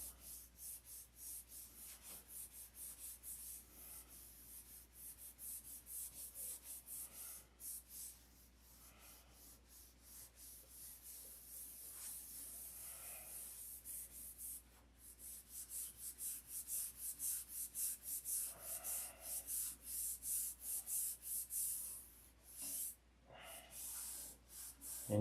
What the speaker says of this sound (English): I'm really sanding it.